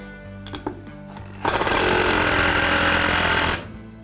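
A power driver sets a construction screw into a ceiling joist, a few light taps and clicks followed by a loud, steady two-second burst of motor whir and grinding that stops abruptly.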